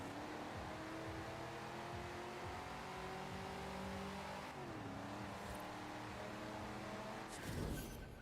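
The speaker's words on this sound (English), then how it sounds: "This thing just rips tires in first gear." A track car launches hard in first gear, engine roaring steadily upward as the tires spin and scrabble for grip, loud and close with a rising rev before a shift near the end.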